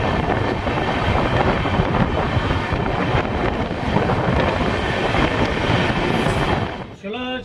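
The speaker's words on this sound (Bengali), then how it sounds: "চলো দেখা যাক নৈহাটি থেকে আমাদের ট্রেনের ডিপার্চার।" An LHB Kolkata-Radhikapur Express pulls out of Naihati with a steady, loud rumble and wind rush from on board, ending with a brief tonal shift.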